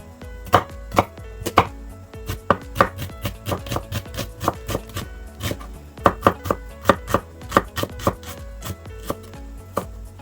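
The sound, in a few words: knife chopping food quickly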